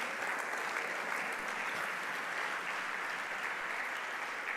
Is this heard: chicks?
no